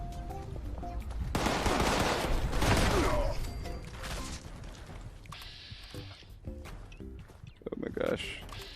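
Shotgun fire in the video game Fallout 76 comes as a few heavy blasts early on amid game effects and mechanical clanks, with a player talking over the action.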